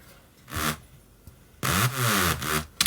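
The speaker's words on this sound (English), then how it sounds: "So it's a really wide, ravey kind of sound." Short bursts of a raw, buzzy synth with swooping pitch bends, stabs separated by brief pauses, the longer notes sliding up and down, no talking.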